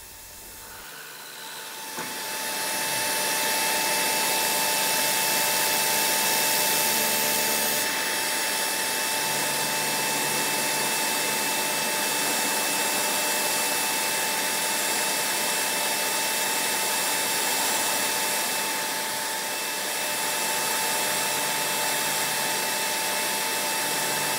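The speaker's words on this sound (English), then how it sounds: "I'll use a form tool to round out a groove to provide a push point for a block of wood." A metal lathe in a workshop cuts a groove with a form tool into a shop-made chuck plate. A loud, steady whirring hiss with a thin whine spins up after a couple of seconds and holds evenly to the end.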